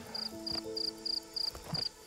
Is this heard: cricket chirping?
yes